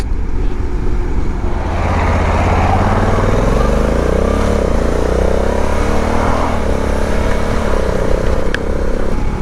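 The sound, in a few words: Honda Africa Twin motorcycle being ridden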